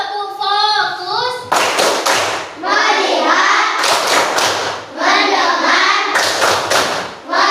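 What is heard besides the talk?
rhythmic classroom clapping, tepuk fokus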